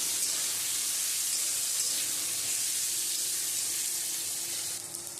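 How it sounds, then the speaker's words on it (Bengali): Slit green chillies and chopped tomatoes fry together in a pan with a constant, close hiss of sizzling oil that fades slightly at the very end. "এখন দিব চেরা কাঁচা লঙ্কা আর যে টমেটোগুলো কেটে রেখেছিলাম সেই টমেটো, এগুলো একসাথে একটু ভেজে নিয়ে"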